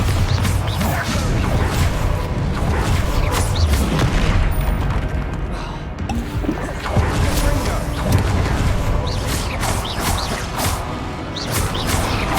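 The Bombarda blast spell goes off in Hogwarts Legacy, one of a dense, loud run of booms and crashes in game combat. Someone speaks over the explosions throughout.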